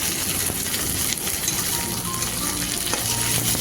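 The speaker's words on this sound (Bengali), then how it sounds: "লঙ্কাগুলো আমি পেঁয়াজের সঙ্গে আরও 1 মিনিটের মতো কষিয়ে নেব।" Sliced onion and split green chillies fry in hot oil in a pan, giving a loud, continuous sizzle with occasional stirring scrapes.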